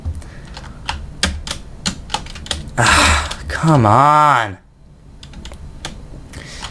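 Mechanical computer keyboard clacks in quick, uneven bursts of close keystrokes, with a voice and a short exclamation cutting through the middle before the typing resumes.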